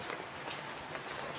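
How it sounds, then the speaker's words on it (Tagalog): Steady rain falling in Bohol, a dense continuous hiss of drops on surfaces, even and close with no pauses. "ulan dito sa Bohol"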